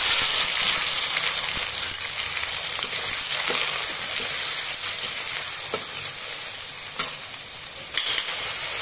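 Hot oil sizzles and crackles loudly and steadily as ginger, chilli, tomato and spices go into the pan for bhoger khichuri, with brief stirring clicks and no talking.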